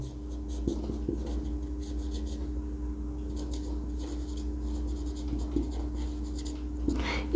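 Chalk or marker taps and scratches on a classroom board in short, uneven strokes, fairly faint over a steady background hum.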